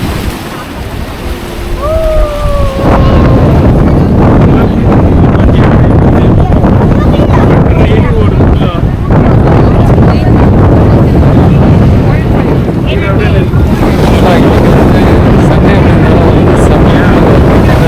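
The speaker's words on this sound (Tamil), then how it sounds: "இந்த பக்கம் வந்து அலை அதிகமாக இருக்கும்." Strong sea waves surge and wash onto the shore at Dhanushkodi, a loud, continuous roar of broken surf mixed with gusting wind buffeting the microphone; a brief tonal sound is heard at the start.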